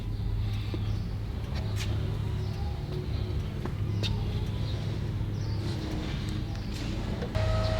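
Interior drive in a 1990 Toyota MR2 from Japan, a steady low engine drone and road rumble running throughout with small clicks and rattles, no talking.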